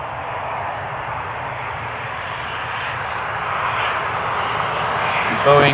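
A Boeing airliner's jet engines roar steadily from a distance at Amsterdam Schiphol's Polderbaan runway, a broad, even rumble that swells slightly near the end, with a brief voice at the close.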